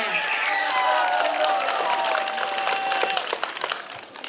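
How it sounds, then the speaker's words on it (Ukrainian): A group applauds a young boy named Misha at a Trinity holiday celebration, moderate clapping under sustained voices and cheerful calls, thinning out toward the end. "Оплески Михайлові"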